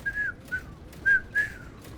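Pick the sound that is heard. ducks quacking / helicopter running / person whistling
person whistling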